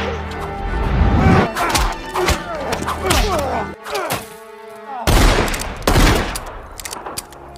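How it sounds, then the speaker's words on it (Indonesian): Gunfire in a Western film scene, with loud repeated shots and a rapid flurry of cracks and thuds, then a sudden pause before another heavy burst of shots. "Dari kejauhan, Dr. King pun menembaknya."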